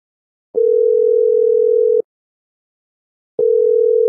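A telephone tone sounds while a call is being placed: two long steady single-pitch beeps with a silent gap between them, clear and close, with no talking.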